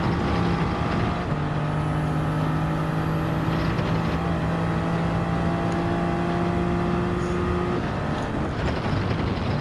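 A Gr.3 race car in Gran Turismo 7 at Dragon Trail Seaside gives a loud, steady engine drone under hard acceleration, its pitch holding nearly level for several seconds before easing off near the end.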